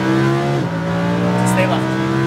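Lamborghini Huracan V10 engine at full throttle on a track, loud and continuous with steady rising harmonics and a brief gear-change dip, while an instructor talks over it.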